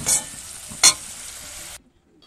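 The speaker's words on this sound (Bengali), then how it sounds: "মশলাটাকে একটু ভালো করে কষিয়ে নেব।" Spice paste of onion, turmeric, chili powder and yogurt frying in a pan for fish curry, with a steady broadband sizzle, two brief louder stirring bursts, then sudden silence near the end.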